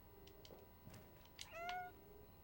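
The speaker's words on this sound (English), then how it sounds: "The camera nods when he meows." A cat meows in the video game Stray, a short clear meow near the end after a few faint chirps and clicks, quiet and close over soft game ambience.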